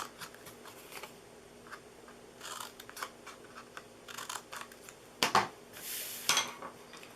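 Scissors snip through a paper treat box in a quiet room, making a series of short, sharp cuts and crisp paper rustles at uneven intervals, faint and close.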